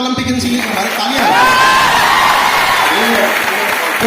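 A seated audience at a Hindi motivational lecture in Patna breaks into loud, sustained clapping, with whoops and a few shouted voices rising over the dense applause.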